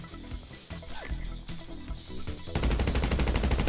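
Rapid gunfire in a James D Gambino assassination scene, with dense bursts of shots over a loud, busy game-style mix that grows heavier and more continuous toward the end.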